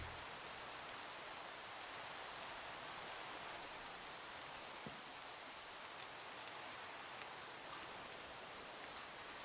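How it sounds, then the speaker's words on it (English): Steady rain falls in Minecraft, a continuous even hiss of drops with faint scattered ticks, no voices, holding at the same level throughout. "Thanks for turning on that rain there."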